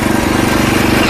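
A 7 hp power weeder engine runs in reverse gear, a loud, close, continuous rapid chugging drone with a steady throbbing pulse.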